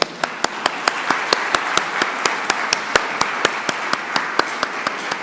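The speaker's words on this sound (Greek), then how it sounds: "πάμε τώρα να χειροκροτήσουμε" A group of attendees at a workplace wellbeing forum clap their hands together in unison, a steady, evenly spaced run of sharp claps over a constant roomy wash of applause, close and lively.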